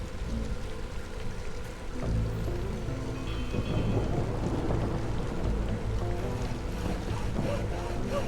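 Heavy rain pours steadily while deep thunder rumbles through it, a dense, loud storm that never lets up, in the video game Against the Storm.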